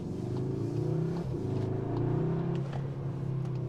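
A 2022 Cupra Leon Estate engine revs hard in Cupra mode through its seven-speed DSG, a steady loud drone rising in pitch, with a brief dip around a gear change before climbing again.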